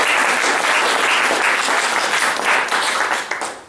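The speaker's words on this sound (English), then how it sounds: "we'd like to give you a round of applause" A debating audience gives a round of applause for the competing university teams, dense steady clapping filling the room for nearly four seconds before tapering off at the end.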